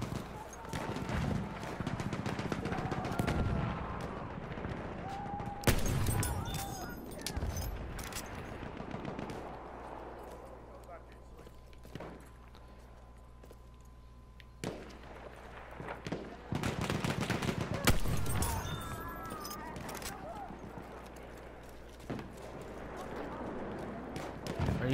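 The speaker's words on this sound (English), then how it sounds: "I'm just killing people with my overpowered sniper." Sniper rifle shots in Battlefield 1, several sharp cracks spread across a busy in-game battle, with ambient gunfire and a voice talking over the action.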